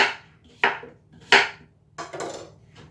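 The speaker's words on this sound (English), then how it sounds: "we need to just cut it up in some small pieces so we can just put it in a blender" Knife chopping a peeled cucumber into small pieces on a cutting board, four or five sharp separate thuds at uneven intervals, close and fairly loud, no voices.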